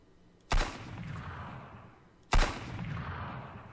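Two sharp pistol shots ring out in the survival video game Sunkenland, spaced under two seconds apart. Each is a loud, close crack followed by a lingering rumbling tail.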